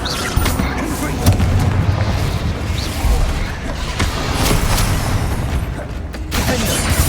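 Spell blasts from Confringo and other combat spells in the Hogwarts Legacy video game: dense, continuous booming impacts and crashes fill the stretch, loud and close, with a voice faintly underneath.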